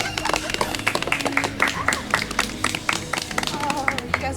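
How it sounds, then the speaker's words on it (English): A small group claps together at a tribal council jury ceremony in a fan-made Survivor game, the sharp claps close and rapid, with voices and cheering mixed in throughout. "Yeah, let's clap."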